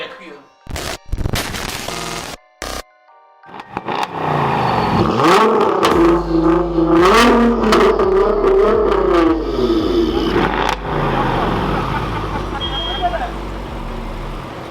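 A car engine, from a Ferrari 458 Italia, Nissan GT-R or Audi RS6, revs hard and loud at full throttle, repeatedly climbing and dropping in pitch, with sharp popping bursts and a few brief gaps near the start.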